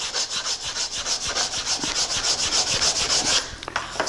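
Hand sanding a small wooden block with 100 grit sandpaper: steady rhythmic back-and-forth rasping strokes, close and fairly loud, about a dozen passes before the motion breaks off near the end, with no talking.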